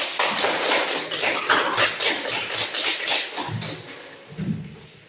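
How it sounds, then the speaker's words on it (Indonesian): Classmates in a school classroom clap together in a steady, dense burst of applause that stays loud throughout and gradually thins toward the end, with no talking over it. "kita berikan dulu aplaus kepada teman-teman kita"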